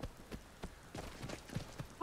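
Horse hooves clop in Skyrim with a soft, irregular rhythm of muffled thuds, faint and close, before a brief tonal game sound at the end.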